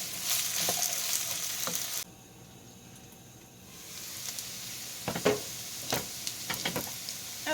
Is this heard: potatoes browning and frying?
yes